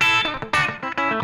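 A chicken pickin' double stop lick with a pull-off on electric guitar with effects and slight reverb, a quick run of snappy, bright plucked notes with sharp attacks, close and alone.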